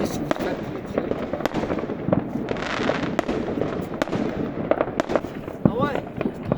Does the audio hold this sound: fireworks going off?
yes